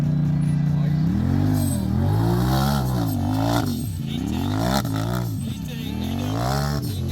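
Turbocharged off-road truck engine on a mountain obstacle course, revving up and down in repeated surges that rise and fall in pitch, loud and close, with someone talking over it.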